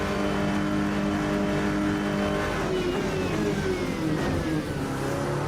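A GT3 race car engine screams at wide open throttle in a racing sim, a loud, sustained whining roar whose pitch climbs steadily through the gears, close and continuous with no talk.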